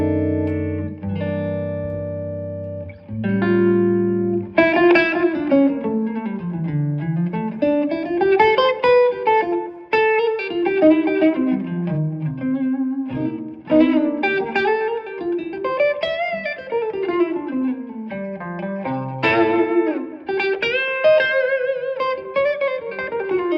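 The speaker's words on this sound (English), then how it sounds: "once you put the reverb in, it kind of smears it all out" Electric guitar played with reverb, sustained chords giving way to flowing single-note melodic runs that smear and ring out in a wet, spacious tail, played alone without talk.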